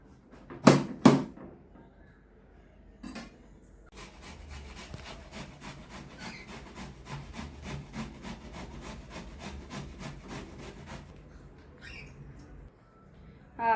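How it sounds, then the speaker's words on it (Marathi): Ripe, soft guava rubbed against a kitchen grater for a salad: a steady rapid rasping that runs for several seconds, preceded by a couple of sharp knocks, close and moderately loud. "तो पेरू आपण कापून किसून घेणार आहोत"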